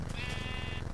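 Sheep bleating in the Minecraft video game: a single sustained bleat over a steady, loud low background hum, with no talk.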